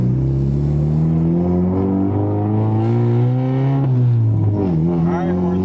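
A turbocharged car fitted with an AEM boost controller accelerates hard in second gear on wastegate boost. Its engine drone climbs steadily in pitch, dips briefly, then rises again, loud and continuous throughout.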